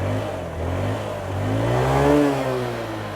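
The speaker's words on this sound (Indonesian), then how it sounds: "Oh ya teman-teman, ini suara mesinnya nih." A Kiwe Shiny 150 automatic scooter engine idling and then revving up, its steady mid-pitched hum rising and falling once, close and alone with no talk.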